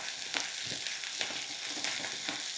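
Baby potatoes sizzle steadily in a pan of hot oil after a pinch of salt, a continuous close hiss broken by small crackles and pops, with no talking.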